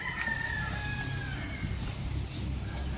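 A rooster crows in a long, drawn-out call over steady low rumbling background noise, with hens faintly clucking nearby in a backyard in the Philippines.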